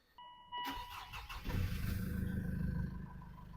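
The Mitsubishi Outlander diesel engine, being checked for DPF trouble, cranks and catches, then settles into a steady, close-up idle that holds to the end.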